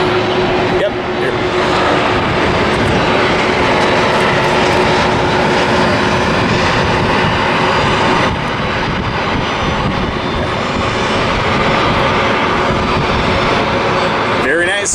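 An airliner flies overhead on approach into San Diego, its engines a loud, continuous roar that holds steady throughout, with a person talking underneath.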